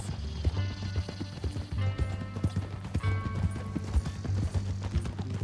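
Horse hooves clip-clop in Red Dead Redemption 2, a steady rhythmic trot of sharp knocks over a low droning game background, with faint tonal music layered on top.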